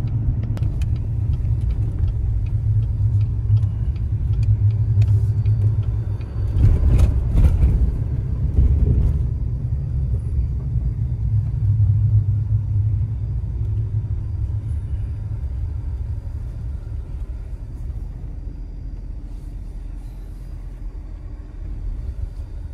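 Engine rumble of a truck rolling through the small town of Jackson, a steady low drone with a brief louder rattle partway through, then easing slightly as it continues.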